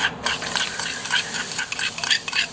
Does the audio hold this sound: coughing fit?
no